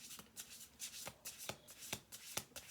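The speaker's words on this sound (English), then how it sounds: "I'm going to do one more shuffle" Deck of oracle cards being shuffled, quiet riffling and flicking bursts in a loose rhythm, close but faint, with no voices.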